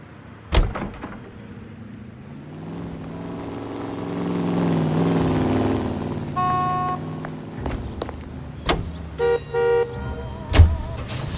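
Car in the video game LA Noire: a door thuds, the engine hums and builds as it drives off, then several short horn toots and clicks follow, fairly close with no talk.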